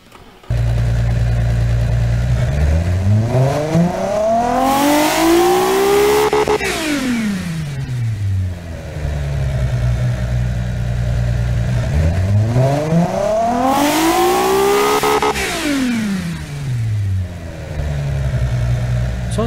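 An 800-horsepower V12 car engine built in the game Automation, revving repeatedly in two long rising sweeps to a high scream, then dropping back to a steady idle, loud and alone.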